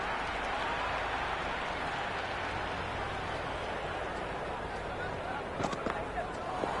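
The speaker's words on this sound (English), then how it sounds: "The crowd is electric right now." A stadium crowd in the Cricket 26 video game roars steadily, a dense, continuous wash of cheering under a commentator's voice, with a few sharper claps near the end.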